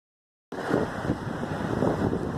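Steady wind from a nearby tropical storm buffets the microphone, starting abruptly and then rushing on continuously as a loud, rough roar with no other sounds.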